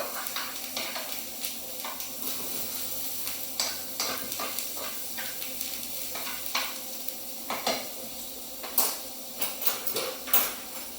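Minced lamb kofta mixture is stirred in a hot, sizzling pan, with repeated scraping and clattering strokes of a utensil over a steady fry, close up and with no voices.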